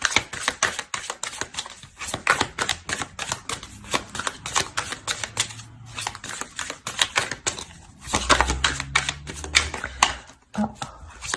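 A deck of tarot cards is shuffled and dealt, with rapid close clicking flutters that come in dense bursts and are broken by brief pauses and soft thumps as cards land.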